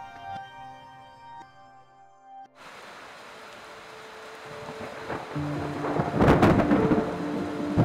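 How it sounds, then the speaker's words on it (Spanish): A fierce jungle thunderstorm driven by a passing hurricane: faint tonal sounds give way to a sudden roll of thunder over steady heavy rain, with a louder crack and rumble near the end. "esta tormenta eléctrica fue feroz"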